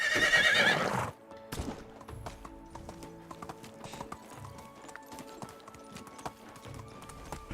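A horse whinnies loudly at the start, then hooves clip-clop at a steady walking pace, with light game-like ambience behind.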